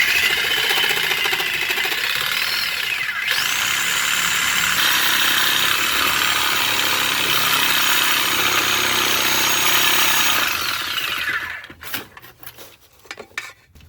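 A cast iron pipe is cut indoors with a rock-wheel saw, giving a loud, sustained grinding whine with shifting pitch that runs about eleven seconds before the blade cuts out and winds down.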